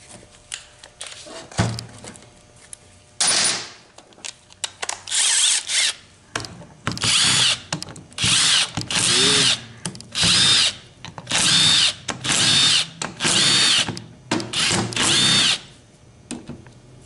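Power drill spinning out bolts from a JF011E CVT transmission valve body, in a series of short, loud, close whirring bursts separated by pauses, with no talk.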